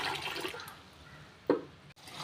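Running water splashes faintly and steadily, with a brief louder slosh partway through, as rice is rinsed in a pot.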